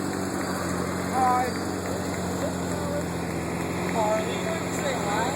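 A 1947 Jeepster's engine runs in a holiday parade as a steady, low idling hum. Faint voices and brief whistle-like tones drift over it.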